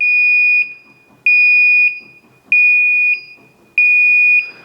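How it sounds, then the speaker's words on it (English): A Twin Busch TWS3-10E home car lift's warning buzzer sounds while lowering: a loud, steady electronic tone in repeated long beeps, four pulses with short gaps between, close and piercing. "you got the buzzer and the red light flashing when you're going down for the warning"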